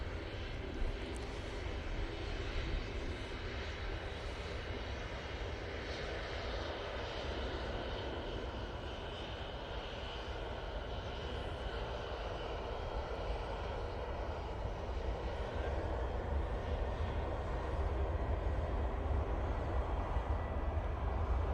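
A Ryanair airliner landing on runway 05 right at Manchester Airport, heard as a distant, low rumbling jet roar that holds steady throughout and swells slightly toward the end, with no talk.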